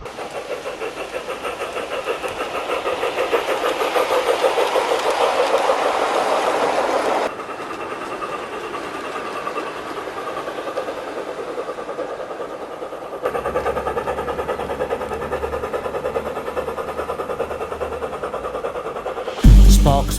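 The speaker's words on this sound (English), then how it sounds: "Sparks were flying from Thomas's funnel as he pulled the heavy train" A steam train pulling heavy wagons rumbles steadily along with a heavy, continuous roar and rhythmic rail clatter, loud and close throughout.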